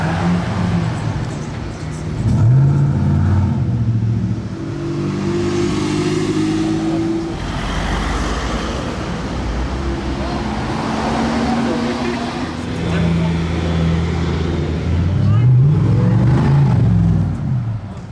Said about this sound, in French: Oh, le bruit de cette SLR.